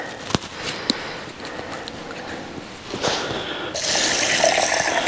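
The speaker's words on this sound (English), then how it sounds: "Pour some water on." Water poured into a camping cooking pot over chilli at a coastal wild camp, a soft trickle with a few clinks that swells into a louder, steady gush near the end, no talking.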